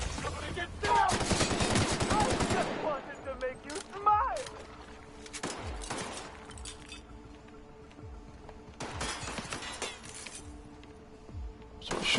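Gunfire in the video game The Outer Worlds: a dense burst of rapid shots up front, then scattered single cracks and short bursts with metallic clinks and ringing tones under a game soundscape, later another rapid volley.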